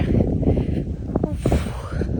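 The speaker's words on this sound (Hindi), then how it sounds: "इतनी हवा चल रही है ना, आवाज़ आ रही होगी हवा की" Strong, cold wind buffets a microphone outdoors, making a continuous low, rumbling roar that stays loud throughout, with a brief voice-like sound partway through.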